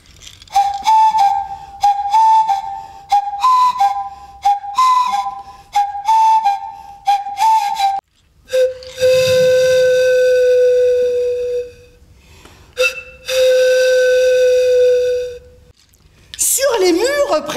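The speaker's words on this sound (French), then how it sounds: "Le début des séances est appelé, signalé, par cette fois des sifflets." A series of sharp whistle blasts, first short rhythmic toots, then two long sustained blows, ending with a brief shrill squeal.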